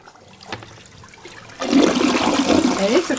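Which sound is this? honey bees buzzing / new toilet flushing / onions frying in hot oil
new toilet flushing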